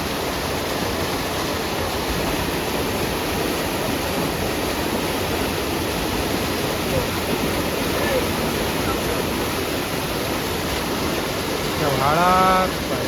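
A swollen stream rushes in heavy monsoon rain in the Konkan countryside, a loud, steady roar of water throughout, with a brief voice near the end.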